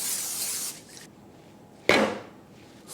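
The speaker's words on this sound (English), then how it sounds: "just with vegetable spray." Vegetable cooking spray is spritzed into a washed, dried mixing bowl to grease it lightly, heard as a short nearby hiss near the start and a second sharp burst that fades away.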